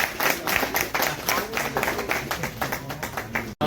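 An audience clapping at a public gathering, dense overlapping claps forming continuous applause with a brief dropout near the end.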